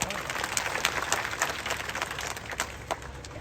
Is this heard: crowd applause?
yes